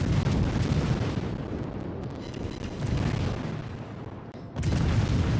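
Naval battleship guns firing in a video game, heavy deep booms rolling continuously with a dense rumbling low roar that dips briefly mid-stretch before surging again, loud and near with no talking.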